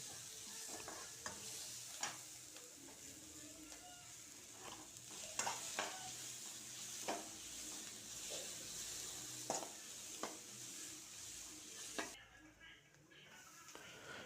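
Beans and capsicum are sautéed in a pan. A soft, low sizzle runs throughout while a spatula scrapes and taps against the pan at irregular intervals, quiet and close.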